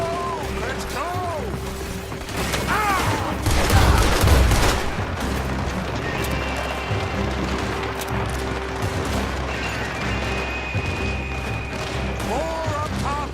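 Heavy gunfire in the Red Dead Redemption 2 video game: repeated rifle and pistol shots crack out through a dense battle mix, with a loud burst of explosive crashing midway, while characters shout and talk over the fighting.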